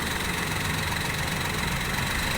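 A used car's engine runs steadily, a dense low rumble with a constant broadband roar and no clear rise in pitch, heard close up and alone for a few seconds.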